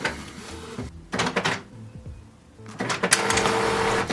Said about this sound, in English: if we give the printer just a minute, it will eventually produce a page